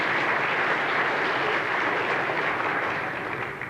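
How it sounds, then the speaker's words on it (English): An audience gives a sustained burst of applause, loud and dense clapping that holds steady for a few seconds and begins to fade at the end. "let's give them a round of applause"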